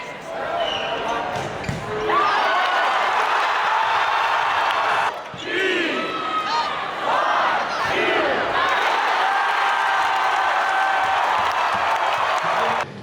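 Large arena crowd roaring and cheering at a BYU women's volleyball match against Utah, a loud sustained wall of voices and whoops that dips briefly and surges again, with an announcer talking over it.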